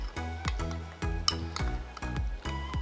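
Prawns stirred through a thick beer batter give wet clinks and scrapes in a bowl, with several short bursts of handling noise spread across a few seconds and no talk.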